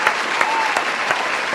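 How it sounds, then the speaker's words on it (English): Short burst of steady clapping, a brisk round of applause with a few sharper individual claps standing out, close and fairly loud. "Here's a round of applause"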